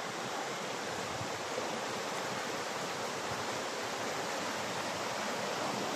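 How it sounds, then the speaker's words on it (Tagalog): Loud, steady rush of a fast-flowing clear river stream, close by and continuous throughout with no voices. "kusog kayong tunoo sa sapa"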